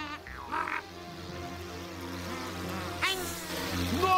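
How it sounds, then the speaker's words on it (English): A cartoon mosquito whines with a thin, wavering buzz amid background music and effects, faint and under the soundtrack, with a brief voice near the end. "That thing is nothing but a mosquito"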